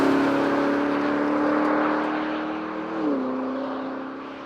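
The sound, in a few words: Porsche Cayenne Turbo GT engine accelerating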